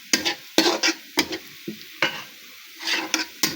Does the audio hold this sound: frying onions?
yes